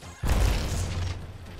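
Thrown grenade exploding in the Apex Legends video game, a sudden deep boom after a brief quiet moment followed by a rumbling, crackling tail that fades slowly, heard alone without talk.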